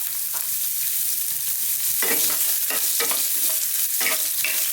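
Onions frying in rendered pork sausage fat in a pan, with a steady loud sizzle and several scraping stirs from a utensil, heard close with no talking.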